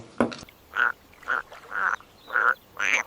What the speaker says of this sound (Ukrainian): Та це, а, це жаба, смотри.